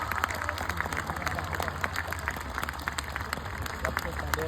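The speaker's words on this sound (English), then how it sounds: "Let's all give the spouses a big round of applause" An audience claps for the spouses, a steady wash of applause heard from a distance with faint crowd noise.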